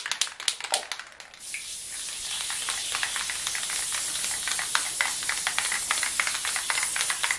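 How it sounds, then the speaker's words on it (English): Spray adhesive hisses from an aerosol can onto a collage in a steady, close spray lasting several seconds, after some short spurts and rattling at the start. "next I take spray adhesive"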